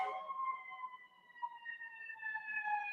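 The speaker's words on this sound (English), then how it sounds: "That is definitely an ambulance." A siren wails steadily outside, its sustained rising and falling tones drawn out and fairly faint as the vehicle passes at a distance, with no talk over it.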